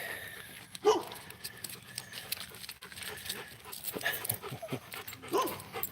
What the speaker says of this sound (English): That's a couple dogs right there that live in that house. They always bark at us when we go by.